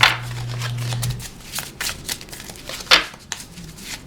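Tarot cards being shuffled by hand, with soft riffles and flicks that come in uneven bursts, close by and fairly quiet.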